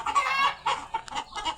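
Chickens on a farm cluck and squawk close by in quick, overlapping bursts, loud and busy with no talking.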